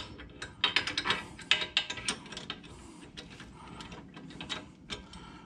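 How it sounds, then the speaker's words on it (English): Ratchet wrench with a socket tightening a nut on the suspension of a 2001 Jeep Cherokee XJ: quick clicking ratchet strokes in uneven bursts, close and fairly quiet, with no speech. "Let me go grab a wrench and a socket and we will snug that up some."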